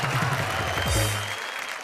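An audience at a comedy poetry show claps in a dense, loud burst while a voice speaks over it. The clapping fades out quickly near the end.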